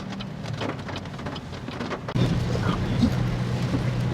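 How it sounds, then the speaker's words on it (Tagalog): Heavy rain pounds steadily on a BYD DM-i hybrid car while it is being driven, a dense continuous wash that grows louder about halfway through, with soft low rumbling underneath. "Grabe, lakas ng ulan guys."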